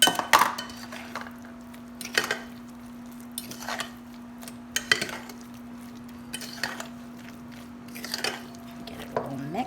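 A kitchen soup spoon clinks and scrapes in a bowl as frittata ingredients and grated cheese are mixed, in short irregular strokes over a faint steady hum.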